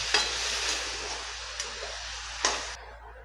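Okra being stirred together with slightly sour yogurt in a pan, a soft continuous scraping and wet shuffling with a couple of sharper clinks of the spoon against the pan, close and fairly quiet with no talk.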